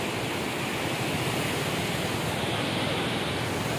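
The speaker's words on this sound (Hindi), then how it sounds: "ये देखिए चाईबासा रोरो नदी।" Floodwater of the Roro river in Chaibasa rushes past in a loud, steady, broadband roar, continuous and close with no pauses and no voices.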